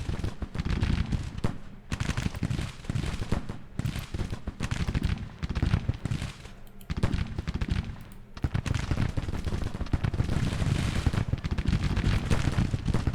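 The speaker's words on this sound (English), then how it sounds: "Two devastating volleys on the way here." Rifle volleys in the Grand Tactician Civil War strategy game, dense crackling musket fire rolling continuously across a battlefield, with heavy booms and short lulls between waves.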